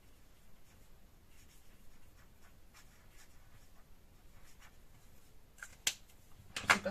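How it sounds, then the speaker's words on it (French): Pen writing a date by hand on a page of a handmade junk journal, soft scratchy strokes close up and quiet, ending in a few sharper taps and rustles of paper. "je vais essayer d'écrire la date"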